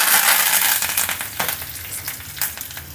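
Loud, bright sizzle of mustard seeds, cumin, dried red chillies and curry leaves crackling in hot oil, strongest at first and then settling into a softer hiss with a few pops.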